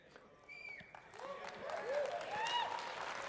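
Audience applause breaking out at a football game reveal event, rising and swelling over about three seconds, with whoops and cheering voices riding on top of the clapping.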